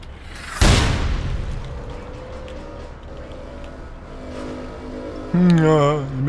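A rocket explodes in the shooter game APB Reloaded, a loud close boom with a long rumbling tail, followed near the end by a brief engine-like whine.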